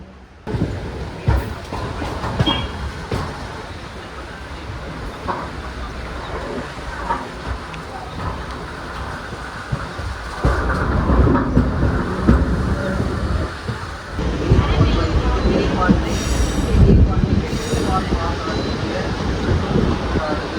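A MEMU passenger train on the Kanniyakumari to Kollam line runs with a steady broadband rumble and rushing air, growing louder and rougher about halfway through, with no talk.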